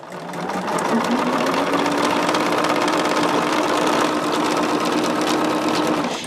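Sewing machine stitching quilting fabric pieces together, a steady close mechanical whir with rapid needle chatter running continuously for several seconds.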